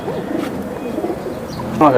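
Pigeons cooing nearby in a loft holding silver pigeons, pankhi and hammer breeds: soft, low repeated coos beneath someone talking, with a sharper call near the end.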